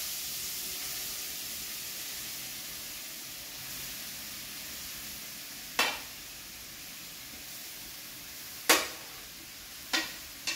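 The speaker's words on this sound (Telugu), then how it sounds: "ఇప్పుడు బొబ్బాస్కాయ కూర వేయించుకుందాం." Pieces of bobbasi kaya cucumber fry in a pan for a halwa, giving a steady close sizzle and hiss, broken by a few sharp stirring clinks toward the end, with no talking.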